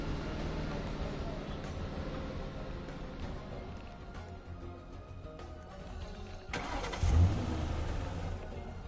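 A car engine in a PS5 video game starts up and drives, with a steady mid-range engine drone, a sharp louder burst near the end as it revs, and game sounds around it.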